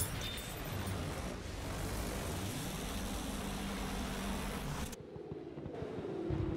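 A World War I bomber in Battlefield 1 drones overhead as a broad, rumbling engine roar with slowly shifting pitch, steady and fairly loud before cutting down abruptly near the end.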